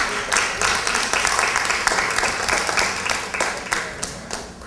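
Audience applause at a neighbourhood prize draw in Miraflores, steady dense clapping throughout with some voices mixed in underneath.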